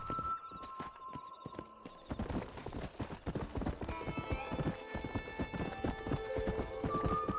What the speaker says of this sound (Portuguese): Chamar meu cavalo aqui.